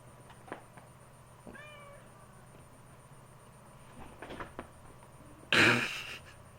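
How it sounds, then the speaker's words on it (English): A domestic cat gives a short, faint meow in a quiet room, followed a few seconds later by a sudden louder burst of rustling or scuffling noise near the end. "And sorry for the cat being on my chair."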